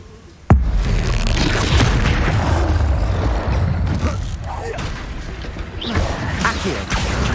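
Expulso explosion spell from the video game Hogwarts Legacy, a single sharp boom near the start, followed by a loud rumbling roar of debris and game noise that slowly fades, with scattered later impacts.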